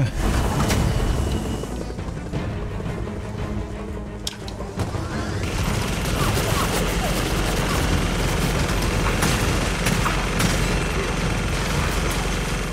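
Rocket explosions in the video game Gears of War 4 boom through dense, continuous battle noise, with gunfire and a sustained roar filling the scene and sharp blasts punctuating it.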